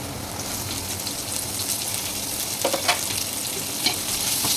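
Pulao mixture with garam masala, salt and coriander being stirred in a pot, a steady sizzling hiss with a few clearer scraping stirs near the end, no talking.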